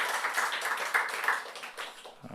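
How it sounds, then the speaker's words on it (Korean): A small church congregation claps in welcome in a quick, uneven patter that fades out after a couple of seconds. "박수로 한번 환영하겠습니다."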